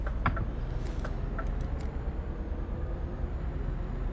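A truck drives in the video game Euro Truck Simulator 2: a steady low engine rumble and road noise throughout, with a few short higher clicks and hisses early on.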